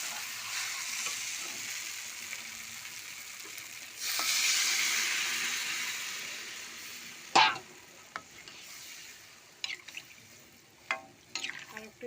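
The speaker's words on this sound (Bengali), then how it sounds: "1 মগ মতনই জল দিলাম" Water is poured into a frying spiced potato masala curry, a sudden hiss and surge of sizzling liquid at mid-clip, followed by a few sharp clatters of stirring and scattered utensil knocks near by.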